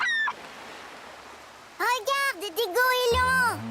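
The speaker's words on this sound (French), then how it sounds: "Regarde, des goélands." Cartoon seagulls crying at the beach, a brief squawk at the start and then a run of sharp wavering calls near the end, with a voice heard over the birds.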